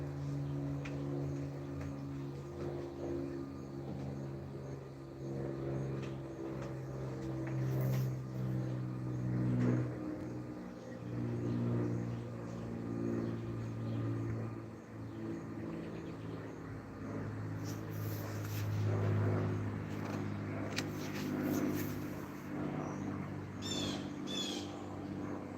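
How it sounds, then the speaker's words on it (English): Loud cars drive past outside on a residential street, their engines swelling and fading over a steady hum, with birds chirping faintly. "Now the loud cars going by"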